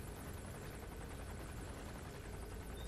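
Helicopter rotor and engine noise from the video game Metal Gear Solid V: The Phantom Pain, a steady dense whirring drone held at an even level for the whole stretch, with no voices.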